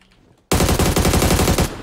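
Close, loud automatic gunfire in PUBG bursts in abruptly after a quiet moment, a rapid run of evenly spaced shots that holds for over a second before tailing off.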